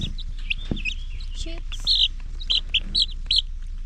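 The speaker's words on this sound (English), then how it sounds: "These are chicks." Month-old chicks hatched in an incubator give a handful of shrill, close peeps, clustered mostly in the second half and spaced by short pauses, over a quiet background.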